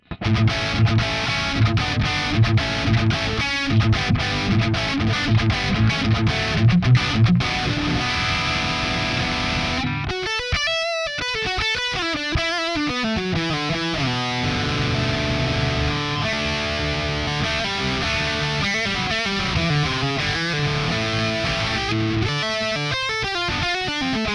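Distorted electric guitar through a Kemper amp modeler on a 5150 amp model plays heavy chugging riffs, then shifts to sustained bending lead notes with wide vibrato, loud and saturated throughout.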